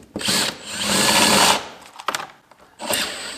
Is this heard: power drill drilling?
yes